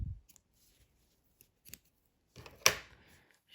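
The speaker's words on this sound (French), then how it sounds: "Je coupe mon fil." Scissors cut crochet yarn, with a single crisp snip near the end after a few faint handling clicks and rustles in otherwise quiet surroundings.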